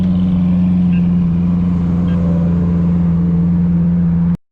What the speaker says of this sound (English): We got the Abarth pulling up next to us as well.